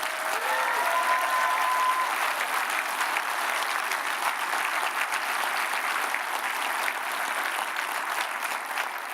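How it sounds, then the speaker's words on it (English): A large conference hall crowd at a Liberal Democrats spring rally breaks into sustained applause and cheering, a dense wash of clapping that holds steady for several seconds with no speech over it. "That got a great cheer."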